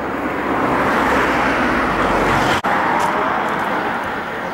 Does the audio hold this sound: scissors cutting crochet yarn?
no